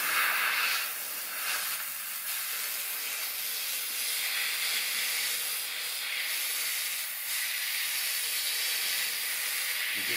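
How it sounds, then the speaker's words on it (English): A handheld steamer hisses continuously and loudly while steam-cleaning a shower, a broad, steady rush of steam with slight variations in intensity and no talking. "so I'll just give it a quick shot with the steamer"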